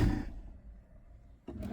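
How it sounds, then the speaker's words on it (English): A big storage drawer slides open beneath the cabinets of a 2026 Accolade XL 37M Super C motorhome, a brief soft rumbling scrape lasting about a second, close and fairly quiet. "big drawers down below. Let's see how deep."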